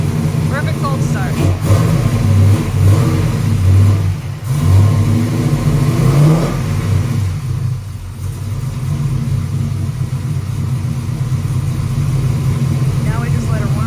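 An LS-swapped Chevelle engine just after a cold start, running with a steady low rumble and occasional revs rising and falling, close and loud, with people talking over it.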